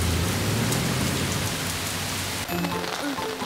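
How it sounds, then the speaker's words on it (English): Steady heavy rain pours down in a cartoon, a dense close hiss that fills the scene, thinning slightly near the end as other faint sounds come through. "This rain just won't go away!"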